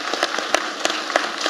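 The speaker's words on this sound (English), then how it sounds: "a round of applause, please" A short burst of room applause for an investment unit team at an anniversary panel event on the EC dollar peg, many hands clapping steadily at moderate loudness.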